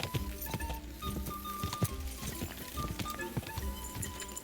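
Galloping horse hooves from Kingdom Come Deliverance 2 pound in a steady, fairly loud rhythm over game music, with no talking.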